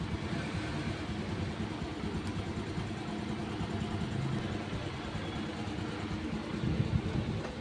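A vehicle engine idles steadily with a low, rumbling vibration, a continuous even drone at moderate level with no voices.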